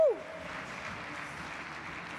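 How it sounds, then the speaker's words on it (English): Audience applause at a Guidewire Connections conference keynote: a steady, even wash of clapping held at moderate level throughout, opened by a brief sliding whoop or tone. "Let's give her a warm round of applause."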